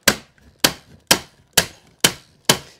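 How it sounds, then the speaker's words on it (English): A stapler drives staples into a nylon carpet runner on a stair, six sharp, close snaps at an even pace about half a second apart, with quiet gaps between and no voices. "We're gonna put a staple every inch."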